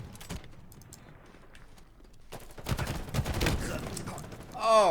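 Rapid gunfire and explosive bursts from the Halo video game, including rocket launcher blasts, pistols and a gravity hammer, build to a dense loud barrage with a sharp sweeping burst at the end, with faint talk underneath.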